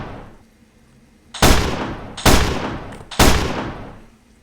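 Three loud, sharp AR-15 shots in a video game, each a booming crack with a decaying tail, spaced about a second apart.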